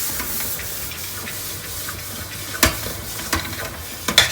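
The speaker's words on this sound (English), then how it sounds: "we continuously stir it to remove all the lumps" Jaggery atta halwa is stirred steadily in a pan, a low sizzling hiss broken by a few sharp spatula knocks and scrapes near the end.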